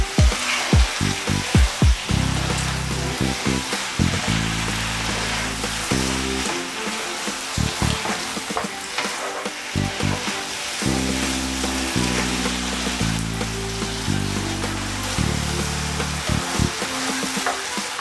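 Spaghetti stir fry sizzling in a pan, a constant bright hiss and crackle with rhythmic low thumps and scrapes from stirring, close and fairly loud, no talking.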